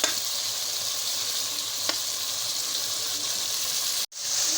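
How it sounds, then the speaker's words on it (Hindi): Finely chopped tomato fries in a pot with ginger, garlic and chili paste, a loud, continuous sizzle and hiss with a light stir, cut off abruptly by a brief silence before the sizzling resumes. "टमाटर के मेल्ट होने तक हम इसको अच्छी तरह से भून देंगे"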